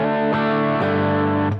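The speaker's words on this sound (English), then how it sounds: "So when I'm on Sunday, I just use this MAGA pedal, Green Child pedal, and it's just a good drive pedal." Electric guitar played through a green overdrive pedal, a sustained distorted chord with two quick re-strikes, loud and close with no voice.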